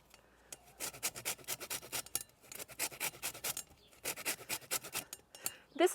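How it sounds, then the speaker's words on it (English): Organic lemons are rubbed against a handheld zester in quick rasping strokes, in bursts with short pauses between them. The sound is close and crisp, and there is no talk over it. "They're organic lemons. And I will zest each one."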